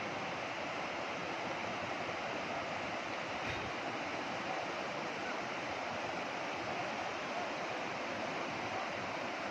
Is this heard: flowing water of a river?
yes